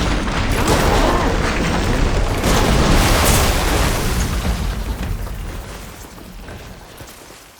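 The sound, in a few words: glowing crystals exploding in video game Horizon Forbidden West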